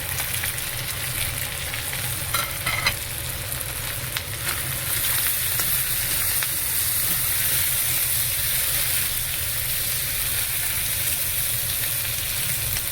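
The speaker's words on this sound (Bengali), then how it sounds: "পেঁয়াজটাকে বেশি ভাজবো না, হালকা ভাজবো" Onions frying lightly in a pan give a steady, close sizzle that runs throughout, with a few brief clinks from stirring early on.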